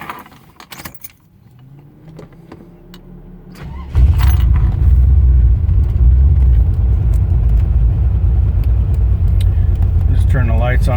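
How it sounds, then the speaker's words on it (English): A Chevrolet C4 Corvette, converted from TPI to a carburetor, cranks and fires up from cold. Brief key and interior rustles come first, then the engine catches and settles into a loud, steady idle rumble close by. "just going to start the car up to kind of show how everything works"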